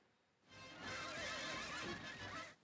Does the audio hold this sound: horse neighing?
yes